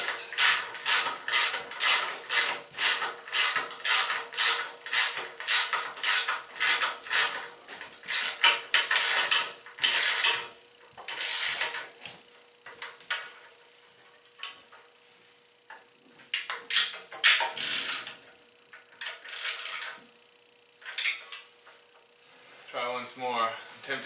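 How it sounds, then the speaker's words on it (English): A wrench ratchets rapidly while tightening bolts on the top plate of a Softride Dura 4 bike rack, making close, loud clicking bursts with short pauses and a creak, interspersed with someone talking. "I'm not even using all of the wrench here to get those tight"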